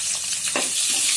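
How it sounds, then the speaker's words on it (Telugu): Onions frying in oil in a kadai with seasoning seeds make a loud, continuous close sizzle, with a brief stir or scrape rising through the hiss. "కొద్దిగా వేగనివ్వాలి."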